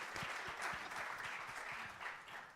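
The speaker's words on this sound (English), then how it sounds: "Can we have a round of applause for our moderator, please?" Applause at a clean energy summit, a dense, even patter of many hands clapping, moderately distant and steady throughout the short stretch.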